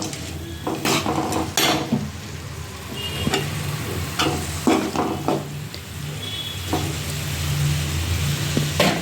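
Finely chopped green beans fry with onion in a pan for palya, a low sizzle under irregular scrapes and clinks as a spatula stirs and mixes them, close by and with no talking.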